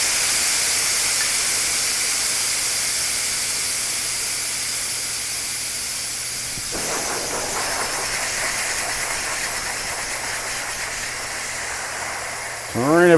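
A Ryobi One 18V cordless air compressor blows a steady, loud hiss of air that carries on throughout, with a brief shift in texture midway and a sharp rising whistle near the end.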